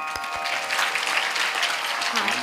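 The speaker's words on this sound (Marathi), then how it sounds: "टाळ्या थोड्या मोठ्यानं वाजवा." An audience at a Marathi kirtan claps in a dense, steady wash of applause that carries on throughout, with a voice briefly heard near the end.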